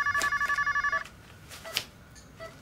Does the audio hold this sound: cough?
no